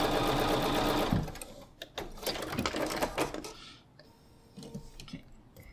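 Sewing machine stitching a quilt block seam, a fast steady mechanical whir for about a second, then stopping, followed by scattered clicks and light handling sounds.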